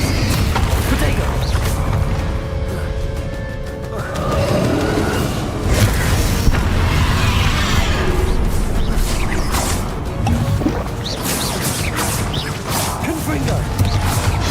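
Spell casting in Hogwarts Legacy, with Confringo fire blasts among Glacius and Protego casts, rolling out as a dense, continuous run of booms, whooshes and impacts under background music, with a voice calling spell names throughout.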